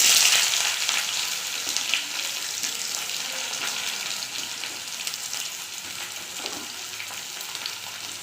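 Chopped onions hit hot oil with whole cumin and whole garam masala, sizzling loudly at first and then settling into a steady, close frying hiss with light stirring, and no one speaks.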